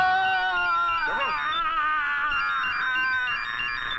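A mobile phone ringtone plays a looping electronic melody, steady and fairly loud throughout, with no talking over it.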